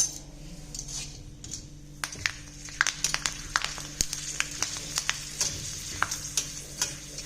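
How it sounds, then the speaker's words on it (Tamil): Dried cluster bean vathal frying in oil in a pan, a close, crackling sizzle punctuated by frequent sharp clinks and scrapes of a metal utensil stirring, busy and irregular, no talking. "ஒரு சட்டியில் எண்ணெய் வச்சு இப்படி வறுத்துக்கலாம்"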